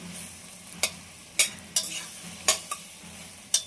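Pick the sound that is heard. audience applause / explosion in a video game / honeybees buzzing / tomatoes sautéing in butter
tomatoes sautéing in butter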